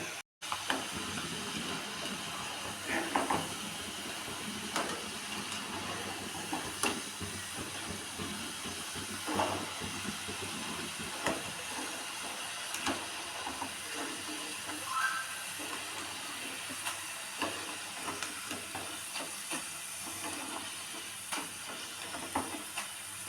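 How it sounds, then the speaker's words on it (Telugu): Potato french fries frying a second time in hot oil give off a steady, moderate hiss and bubbling sizzle, with a few light clinks and stirs, close by and without talk. "మిగిలిన పీసులన్నీ కూడా వేసుకొని సెకండ్ టైం ఫ్రై చేసుకోవాలి"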